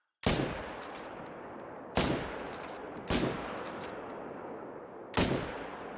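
Four loud, sharp rifle shots during a hunt, spaced irregularly a second or two apart, each with a long echoing tail rolling away in open country; no talking.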